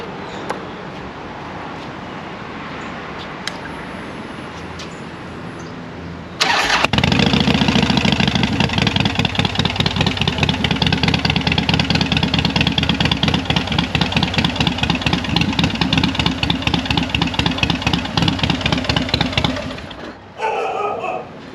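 A 2010 Harley-Davidson Fat Boy Lo with stage 2 tuning and long-shot pipes cranks and fires up, then settles into a loud, close, lumpy V-twin idle with an even pulsing beat before cutting off.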